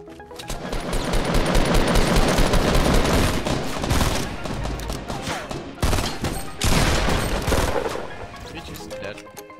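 Sustained bursts of rapid gunfire from enemies in a shooting video game, loud and dense across most of the stretch, with a brief drop near the middle before the firing resumes; voices talk over it.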